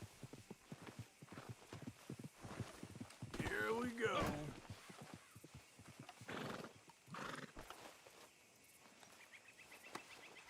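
A horse in Red Dead Redemption 2 clip-clops along at a steady gait, then lets out a loud, close whinny, followed by more hoofbeats over faint insect chirps, with brief speech in between.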